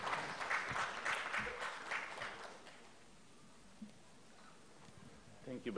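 An audience at the 2018 EROPA conference in Nepal applauds as a speaker is welcomed to the stage. The clapping is moderately loud for about three seconds, then thins to a quiet hall with faint movement.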